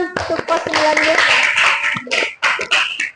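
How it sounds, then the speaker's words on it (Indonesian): A school class of ninth graders bursts into a short round of clapping mixed with loud, lively voices and cheering, fading in a few last scattered claps. "tepuk tangan untuk kelas 9 guys"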